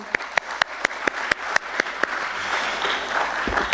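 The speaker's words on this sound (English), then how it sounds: "Can we please have a big round of applause for him?" At a stock exchange listing ceremony, a few slow, evenly spaced hand claps ring out sharply at first, then fade into a softer, diffuse patter of audience applause.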